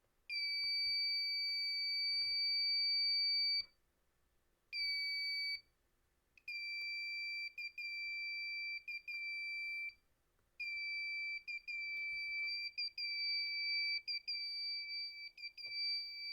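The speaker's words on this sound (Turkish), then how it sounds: "Gördüğünüz üzere buzzer'ımız aktif olarak sizlere ışıkla ilgili eş zamanlı olarak tepki göstermekte." A piercing active electronic buzzer driven by an Arduino beeps in long steady tones broken by short gaps and rapid stuttering pulses, loud and close.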